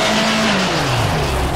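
Rally car, a Subaru Impreza WRX STI, in the WRC 4 video game at the Rally of Australia, with a loud engine dropping in pitch as revs fall through a hairpin, plus tire and gravel noise.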